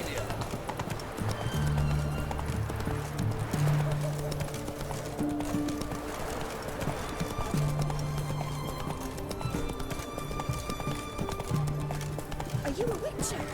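The horse Roach gallops in The Witcher 3, its hooves making a steady clip-clop under a voiced line, game music and ambient background sound. The rhythm stays even and continuous throughout.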